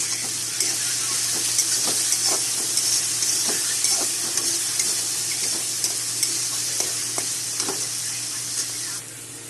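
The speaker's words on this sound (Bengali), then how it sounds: "এখন ভাজা হবে।" Continuous loud sizzling of potatoes with a little turmeric frying in a pan, with occasional light scraping clicks from stirring throughout.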